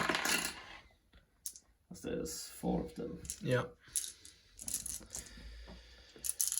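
A handful of dice clatter and rattle across a tabletop during a Warhammer tabletop battle, several bursts of sharp plastic clicks and tumbles interleaved with nearby conversation.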